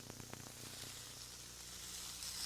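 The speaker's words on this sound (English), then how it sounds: "You can just lay those steak strips right there on the grill and hear that sizzle." Steak strips sizzle on a George Foreman grill, a steady broadband hiss that swells gradually, with a few faint crackles near the start and no talking.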